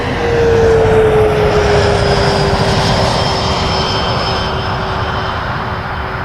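A Challenger 650 business jet at Toronto Pearson Airport roars loudly and steadily, its engine whine sliding slightly downward as it passes, with no voices over it.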